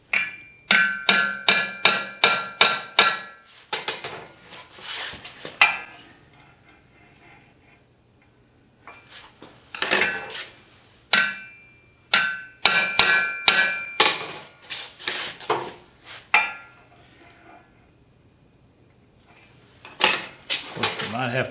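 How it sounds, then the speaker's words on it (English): Small hammers tap metal in a welding shop, striking in quick bright bursts of rapid repeated blows separated by short pauses, loud and close throughout. "I love these little hammers."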